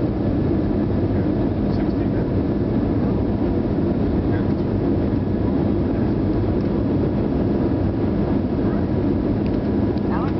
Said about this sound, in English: This is an Airbus A320.